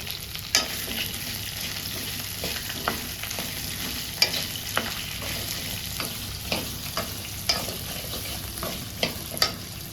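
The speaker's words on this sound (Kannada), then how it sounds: "ಕೊತ್ತಂಬರಿ ಬೀಜ ಎರಡು ಟೇಬಲ್ ಸ್ಪೂನ್ ಹಾಗೆ ಸಾಂಬಾರು ಇದನ್ನು ಸ್ವಲ್ಪ ಫ್ರೈ ಮಾಡಿ ಗ್ರೈಂಡ್ ಮಾಡಬೇಕು" Coriander seeds frying in a pan for a Chettinad chicken biryani spice mix, a steady dry sizzle with regular scraping stirs of a spoon through the seeds over ten seconds, close and alone with no voices.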